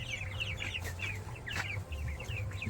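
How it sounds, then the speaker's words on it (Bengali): Chickens and chicks in a small farm coop make repeated soft clucks over a continuous cheeping of chicks. The birds are nearby, and a low hum runs underneath. "মুরগির বাচ্চাগুলো দেখো।"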